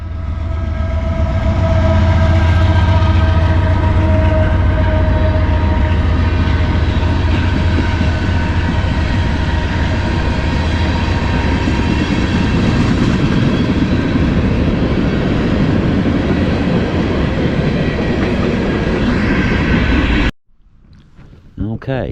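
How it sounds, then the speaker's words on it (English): Trains roll past on a nearby line, a loud sustained rumble with rhythmic wheel clatter and a tonal hum lasting about twenty seconds before cutting off abruptly to near quiet. "I got a train coming by. So we'll let the train go by"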